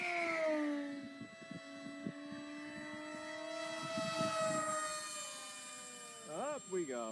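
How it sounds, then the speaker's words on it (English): A small aircraft engine drones steadily under full throttle while climbing, its tone holding level and then sweeping upward near the end, with brief voices over the drone. "she's still climbing under full throttle."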